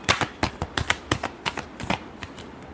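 Tarot cards riffled in a quick series of crisp, close flicks and snaps, about a dozen sharp bursts over a couple of seconds, tapering toward the end with no voices.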